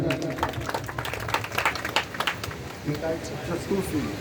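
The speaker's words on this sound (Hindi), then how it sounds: "जोरदार ताली।" Applause at a Hindi donation announcement during a religious gathering, a crowd clapping in bursts of sharp hand claps with voices mixed in, moderately loud and uneven.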